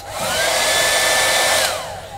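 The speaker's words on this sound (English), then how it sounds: "Now the hairdryer has an American socket, so you can only use it here" A cabin hair dryer on a P&O Britannia cruise ship whirs steadily for about two seconds, a loud high fan whine with airy hiss that spins up, holds, then winds down.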